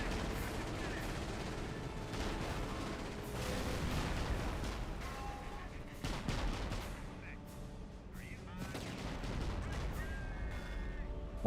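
Heavy howitzer artillery booms and bursts of gunfire in a video game, a dense, continuous barrage of loud thuds and cracks layered over music and battlefield noise, with sharp impacts around the middle and end.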